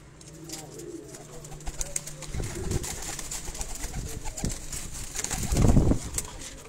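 Dubai Teddy breeder pigeons coo in low, repeated rolling calls, close by, with a brief flutter of wings and a louder burst near the end.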